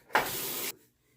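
A short, close burst of hissing water from a tap during rinsing after a shave, lasting about half a second and then stopping.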